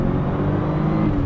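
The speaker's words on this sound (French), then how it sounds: "Là, j'accélère à fond" A RUF 993 Turbo R, a turbocharged Porsche 911, accelerates at full throttle, heard as a brief, dense engine roar with a steady harmonic drone, loud and continuous.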